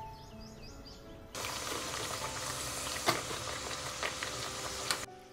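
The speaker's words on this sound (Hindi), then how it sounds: "अब मैं इसको एकदम स्लो में पकाऊंगी" Food fries slowly in a pan at home with a dense, even sizzle that starts abruptly and holds steady, a few sharp pops and crackles standing out, and faint bird calls before it begins.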